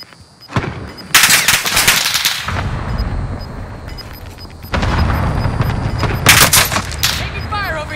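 Rapid gunfire and heavy bursts ring out in Call of Duty: Modern Warfare Resurgence, with loud volleys, a lull, then more shooting amid battlefield rumble and faint voices.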